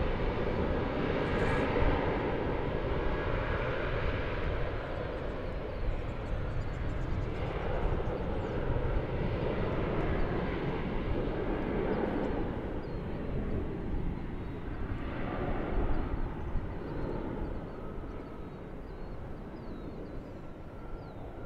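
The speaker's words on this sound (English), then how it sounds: "This Airbus A319 is off to San Francisco." Airbus A319 jet airliner departing DFW Airport, a broad, steady roar of engines that holds loud and even across the whole span, with faint swells as it climbs away.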